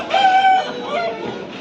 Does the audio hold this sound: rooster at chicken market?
yes